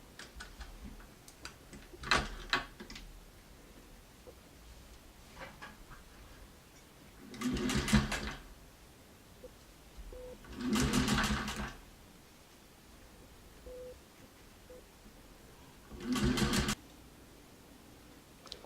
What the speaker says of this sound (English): And we just start sewing.